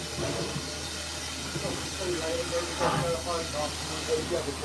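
Rhythmic chuffing blast-pipe exhaust of a steam locomotive, heard from the cab, over a steady hiss, with someone talking throughout.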